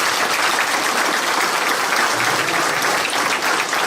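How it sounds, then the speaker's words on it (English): Loud, sustained applause from the audience at a Frankfort, Indiana mayoral forum, a thick continuous wash of clapping holding the same level from start to finish. "I'll let you clap to get that out of your system"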